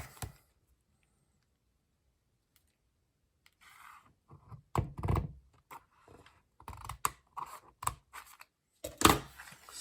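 Quiet at first, then a series of crisp snipping and crunching sounds as scissors cut through the plastic case of a graded comic book, with a sharp loud cut near the end.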